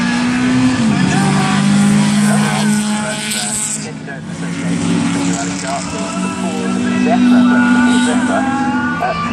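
Four-wheel drive Lada Samara Group B rally competition car at a car festival, its engine droning steadily with rising and falling revs beneath continuous nearby talk.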